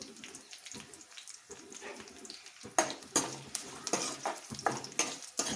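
Cashew nuts dropped into hot oil in a pan while cooking prawn fry, a quiet stirring start giving way to sharper crackling and sizzling with scraping of utensils.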